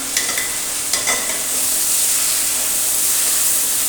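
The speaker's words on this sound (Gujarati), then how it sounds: "હવે આપણે નાખીશું ટમેટા તો ટમેટાને પણ આપણે પકાવીએ છીએ" Tomatoes are added to potatoes and okra already cooking in a pan, giving a steady close sizzle and hiss. Two or three light clatters of a spoon come early, then the frying settles into an even, continuous sizzle.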